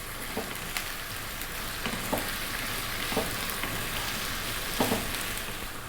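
Potatoes and chopped garlic frying in a pan give a steady, even sizzle with occasional soft pops and clicks, close and moderately quiet, with no talking.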